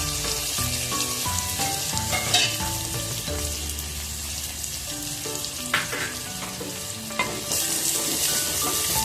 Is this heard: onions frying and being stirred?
yes